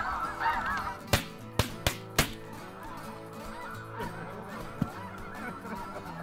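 Snow geese honk during a Kansas waterfowl hunt, a continuous chorus of calls from a large flock at moderate distance, broken by four sharp, loud shotgun-like cracks in quick succession and a fainter one later.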